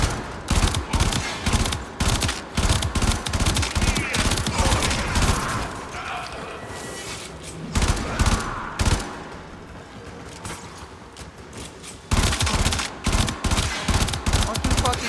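Rapid bursts of video game gunfire from a harpoon gun, loud repeated volleys with short pauses between, and a voice talking under the shots.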